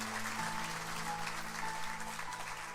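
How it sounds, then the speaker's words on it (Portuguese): A church congregation applauding during a Portuguese-language sermon, sustained even clapping filling the room, with faint steady tones from a keyboard or organ held underneath. "Quem recebe isso, aplauda ao Senhor Jesus."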